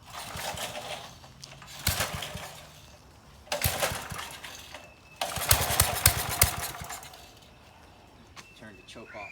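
A small engine on a freshly rebuilt carburetor with a new membrane sputters through several short revving bursts between quieter idle stretches, close by, with someone speaking briefly.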